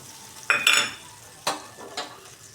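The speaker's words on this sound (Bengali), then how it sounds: "আর এর মধ্যে দিব আদা আর জিরে বাটা" A paste of ginger and cumin dropped into a hot pan with dried chillies, with a few sharp sizzling bursts and utensil scrapes, close up.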